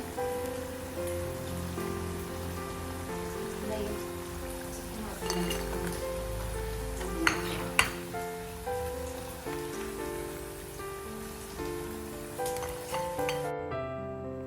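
Ready-made french fries fry in hot oil in a pan with a continuous crackling sizzle like rain on a surface. Soft background music and a couple of faint clinks sit under it.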